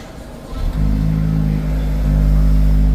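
A 2023 Honda Civic Type R FL5 fires up from cold: a brief starter crank, then the engine catches and settles into a loud, steady high idle that rises slightly near the end, with its exhaust valve still closed.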